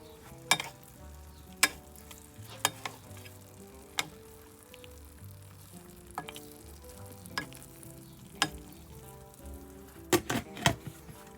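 Biryani stirred in a pot before being set to cook on dum, a soft continuous sizzle with sharp spoon clinks against the pot at irregular intervals, quiet and close.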